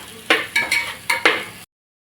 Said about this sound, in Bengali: আমরা একটু ভালো করে নেড়ে চেড়ে নেব।